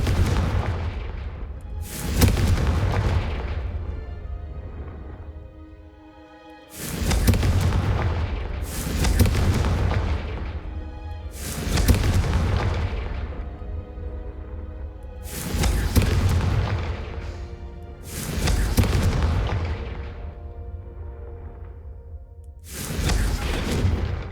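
Confringo spell blasts in the video game Hogwarts Legacy, seven deep booming explosions spaced a few seconds apart, each with a long rumbling decay.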